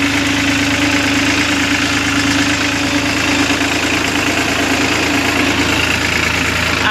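A tractor engine idles close by with a loud, steady mechanical chug and vibration, unchanging for several seconds with no voices.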